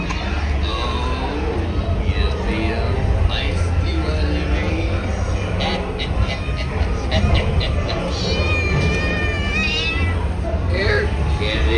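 A cat meows repeatedly amid the steady background din and crowd babble of the Pirates of the Caribbean ride at Disneyland, with people talking nearby.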